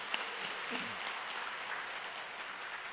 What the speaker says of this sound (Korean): 우리 하나님께 영광의 박수 한번 올려드리겠습니다.